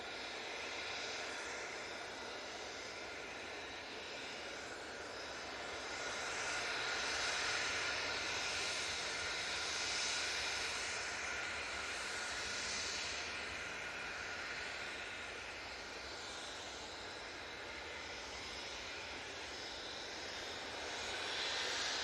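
Passenger jet engines at Manchester Airport, a broad distant roar that swells and fades gently over about twenty seconds, heard alone without talk.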